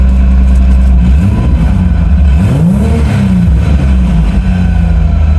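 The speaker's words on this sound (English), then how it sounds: "See if giving it some revs will help." A Nissan 300ZX engine is revved hard and close, rising in pitch with two distinct swells of acceleration before settling back toward a rough idle, loud and alone.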